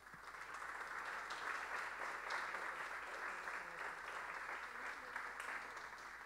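Steady, sustained applause from an audience at a state music composition award ceremony, filling the hall evenly for several seconds.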